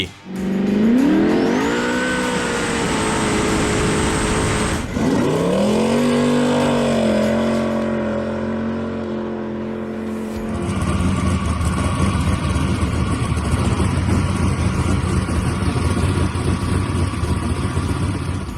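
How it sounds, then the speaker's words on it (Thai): A powerful twin-turbo V8 boat engine roars loudly and close, climbing through two long revving pulls before settling into a heavy, sustained rumble. "เป็นเครื่องยนต์ V8 มันมีเสียงคำรามที่โคตรจะน่ากลัว"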